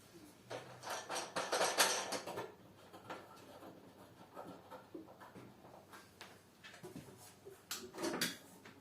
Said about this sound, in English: I don't hear any friction noise, so I'm going to close the doors.